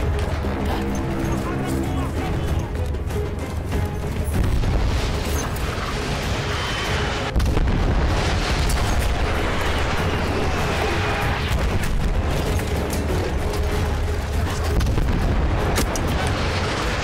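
Bomber air strikes in the Battlefield 1 video game give a dense, sustained roar of rumbling explosions and battle noise, loud and continuous throughout, with a voice talking over it at times.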